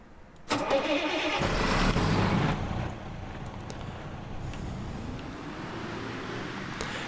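A tractor engine cranks and fires up in Agricultural Simulator 2013, a loud burst of starting noise that drops after about two seconds into a quieter, steady idle.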